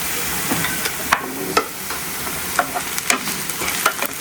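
Vegetables sautéed in a pan, a continuous close frying sizzle with repeated sharp scrapes and taps of the spatula stirring them, no speech.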